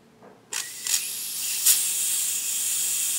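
Compressed air hissing from a mist coolant nozzle in a machine shop, cutting in abruptly after a brief quiet moment and then holding a steady, bright hiss with a couple of short louder puffs along the way.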